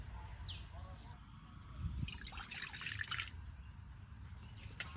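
Water pours into a cooking pan for a coconut fried pitha, a short splashing rush midway through, heard faintly over a low background hum in a village kitchen.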